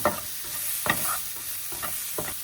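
Chopped vegetables, including capsicum, sizzle in a pan as a spatula stirs them in several short scraping strokes, soft and close with a steady hiss underneath.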